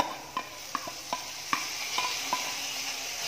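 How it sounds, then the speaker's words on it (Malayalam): A spoon stirs onions with green chili, ginger and garlic in a pan, giving about seven distinct scraping knocks at an uneven pace over a soft sizzle, close and fairly quiet. "നന്നായി മിക്സ് ചെയ്ത് കൊടുക്കാം."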